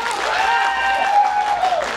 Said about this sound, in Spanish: Aplausos para Aphrodite.